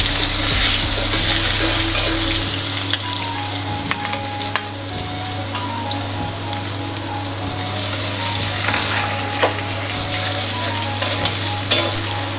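Onion and a few garlic cloves frying in oil over a cumin seed tempering, with a continuous loud sizzle, scattered crackles and stirring scrapes, a low steady hum underneath, no talk.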